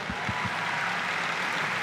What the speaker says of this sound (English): Can I get a round of applause for our British medalists?